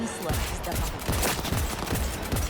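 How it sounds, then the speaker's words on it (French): Gunfire rings out in Cyberpunk 2077, a dense burst of rapid shots crackling close and loud, layered with game ambience. "J'ai entendu des coups de feu."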